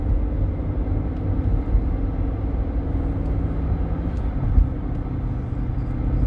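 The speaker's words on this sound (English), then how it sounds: "Now going to drive the vehicle on the highway. Now at 2000 RPMs and 40 miles per hour." A 2008 Range Rover cruises on a highway at 40 mph and about 2000 RPM, giving a steady low engine drone with road rumble that holds level throughout.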